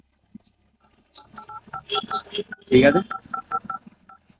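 Telephone keypad tones as a phone number is dialed: a rapid, close, clear run of about a dozen short beeps, with a brief spoken phrase overlapping the middle of the sequence.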